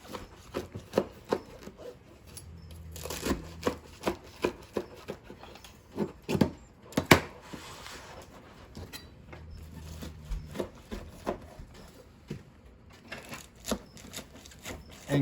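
Salad vegetables, chicken, avocado and lettuce cut together in one bowl, an irregular run of close, sharp chopping taps and scrapes, busy at times and sparser in between, with no talking.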